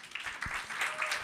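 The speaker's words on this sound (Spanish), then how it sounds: "un aplauso por los empleados, gracias a Dios." Church congregation applause for employees, a brief, fairly quiet patter of clapping heard at a distance.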